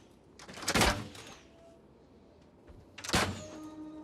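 Scorpion bolt throwers fire in a Rome 2 Total War battle against Romans and Briton slingers, two sharp mechanical thunks about two seconds apart, fairly quiet over a low battlefield murmur.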